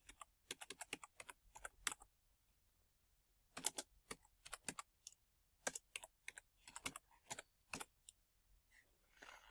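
Quiet close-up typing on a computer keyboard, irregular bursts of crisp key clicks separated by short pauses, soft and alone with no talk.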